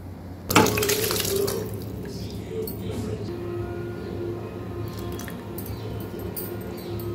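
Soaked rice and broken wheat poured with their water into a pressure cooker, a sudden splashing rush followed by a softer lingering bubbling and a few light clinks.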